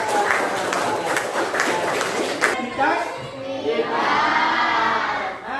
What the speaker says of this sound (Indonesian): Tepuk tangan untuk Indah